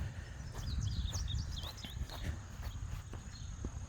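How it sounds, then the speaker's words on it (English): Several birds chirp in short, bright bursts during an outdoor walk, mid-distance over a low rumbling background of footsteps and wind. "Certainly hear a lot of birds, that's for sure."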